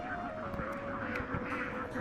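Khaki Campbell ducks kept penned on a farm make a steady, low-level cluster of quacks and honks, a faint overlapping background of fowl calls with no talking.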